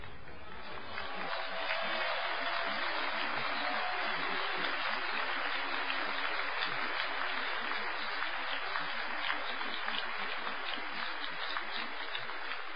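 A large crowd at a January 2001 demonstration on Wenceslas Square applauds. The clapping is dense and continuous, starting after a brief lead-in and rattling on at an even level for the whole stretch.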